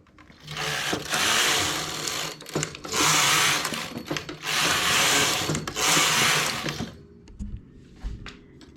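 A domestic knitting machine carriage sweeps back and forth across the needle bed while rows are knitted for a round sleeve armhole. Four long, loud, rushing passes run back to back, then the sound falls to a quieter stretch with a few light clicks.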